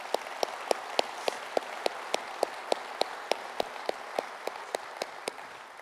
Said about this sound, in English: You all deserve an applause.